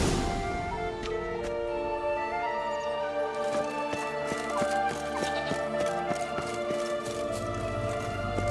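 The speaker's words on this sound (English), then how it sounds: "Run, Roach." A horse gallops in the video game The Witcher 3, its quick rhythmic hoofbeats clopping steadily over sustained in-game music.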